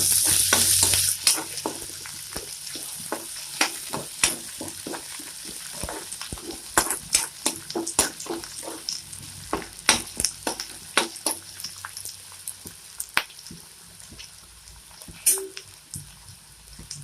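Close, steady sizzling of ginger and garlic frying in a pan, with repeated scraping and stirring clicks from a utensil throughout.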